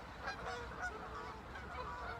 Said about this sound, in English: Can you hear those Canada geese there?